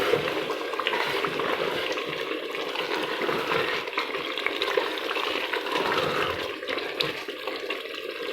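Kadu gosht with green chillies cooks in a pan, a continuous close sizzle and bubbling with wet stirring scrapes running evenly throughout, no voices over it.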